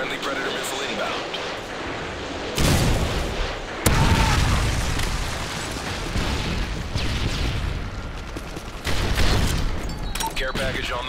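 In Modern Warfare 3 gameplay, a Predator missile strike lands with heavy booming blasts, a sharp loud explosion followed by a sustained rumbling roar and further bursts amid chaotic battle noise.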